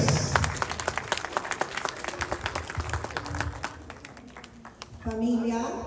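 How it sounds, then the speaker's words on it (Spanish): Crowd clapping at an outdoor patron-saint festival procession in La Unión, Tarma, Peru, with sharp irregular claps over a busy background, a short steady tone entering near the end. "un aplauso para nuestra Virgencita de la Mercedes."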